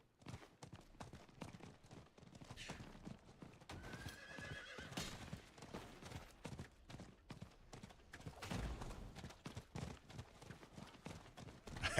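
Hooves clip-clop steadily from a default horse in a video game set in Helltide, with a dense rhythmic gallop over rough ground and a neigh, close and continuous.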